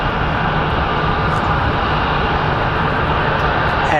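A jet airliner, likely an Airbus A319, takes off at Phoenix Sky Harbor International Airport, its engines a loud, continuous broadband roar that holds steady throughout with no talking.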